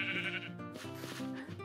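Minecraft sheep bleating in a short burst, a clear wavering game-animal call heard up close with no talk over it.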